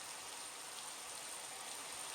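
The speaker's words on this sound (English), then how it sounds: "It started raining again for some reason." Steady, soft hiss of rain falling in the Minecraft video game, a continuous even patter with no talk over it.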